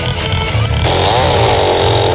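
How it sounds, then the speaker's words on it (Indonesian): A chainsaw cuts through the fibrous strands clinging to the core of a teak root in a local teak-root craft workshop. Its loud, steady, close buzz holds throughout and shifts pitch partway as the blade bites into the wood. "kami harus memotong bagian serabut yang menempel pada inti akar dengan gergaji mesin"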